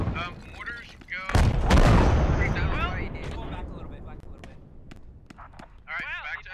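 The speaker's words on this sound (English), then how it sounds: "Mortars go." Mortar blasts and gunfire sound in the military shooter game Squad. Heavy booms and rumbling impacts land under radio chatter and voices, and a sharp loud burst comes near the start.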